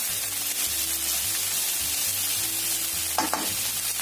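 Garlic chives sautéing in a pan give a steady, loud sizzle and hiss, with the faint scrape of stirring near the end and no talk.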